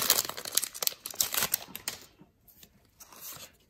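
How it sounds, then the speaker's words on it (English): A Pokemon Sun and Moon booster pack's foil being torn open up close, with rapid crinkling and ripping over the first two seconds, then faint rustling as the wrapper is handled, with no voices. "I got a Sun and Moon pack to open."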